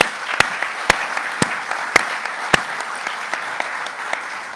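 Audience applause for presenters at a talk on power, water and wastewater systems, a steady clapping wash with several sharp, distinct individual claps standing out near the start.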